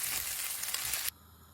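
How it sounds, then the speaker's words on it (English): Pitha (Fara) made with wheat flour sizzles in a pan of hot oil, a loud bright crackling hiss that runs steadily for about a second, then cuts off abruptly to near silence. "You can fry them one by one."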